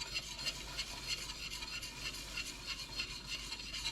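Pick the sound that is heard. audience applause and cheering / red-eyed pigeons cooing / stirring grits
stirring grits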